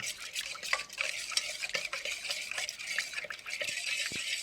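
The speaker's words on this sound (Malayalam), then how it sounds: "ഇത് നമുക്ക് നേരെ ഒന്ന് മിക്സ് ചെയ്യാം" Dry ginger powder and powdered palm candy being mixed in a pot, quiet rapid scraping and clinking of a spoon against the vessel, close but faint, no voices.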